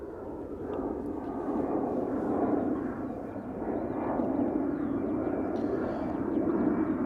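An EasyJet airliner bound for Venice departs Schiphol Airport, producing a broad, steady jet roar heard from a distance that swells gently over several seconds.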